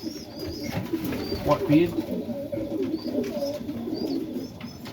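Serbian Highflyer pigeons coo softly in a loft, low murmuring calls close by with a few faint chirps, while someone talks over them.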